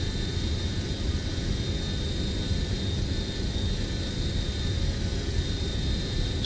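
An airliner climbs and turns in Microsoft Flight Simulator, its engines giving a steady, even drone with a high whine running through it, heard alone without talk.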